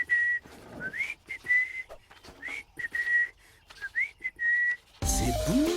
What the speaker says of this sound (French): Siffle-le plutôt.